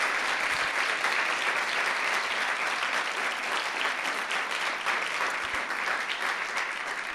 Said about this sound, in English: I want to give one last round of applause to all of the poets.